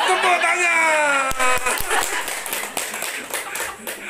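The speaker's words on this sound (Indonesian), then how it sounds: "Tepuk tangan." Audience at a talk given in Indonesian claps in a scattered burst of sharp hand claps that thickens into steady applause, following a moment of laughter and vocal sounds at the start.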